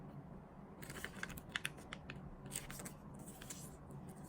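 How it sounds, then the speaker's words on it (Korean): Sheet of origami paper being creased, unfolded and folded again into squares for an eight-knife fold, giving faint, crisp crackles and taps in quick irregular clusters, close up and quiet. "그 다음에 펴주시고 똑같이 네모를 접어줍니다."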